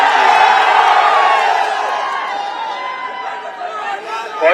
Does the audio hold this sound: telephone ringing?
no